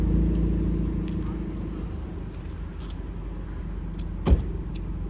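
Maruti Dzire fitted with a loud dual 1200 subwoofer and eight-midrange audio system, heard from outside in a running shot: continuous heavy low-end rumble and engine drone, steady and loud, with a brief sharp thump near the end.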